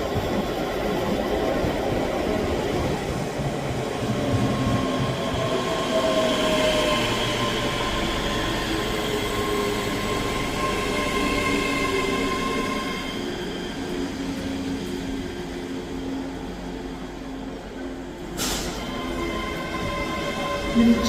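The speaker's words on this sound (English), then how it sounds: "Arriving in now is the 10:56 Scotrail service from Glasgow Central to Edinburgh Waverley." A ScotRail class 385 electric train arriving at Edinburgh Haymarket station, a continuous rumble with wheel squeal and a faint rising motor whine, a sharp clank near the end.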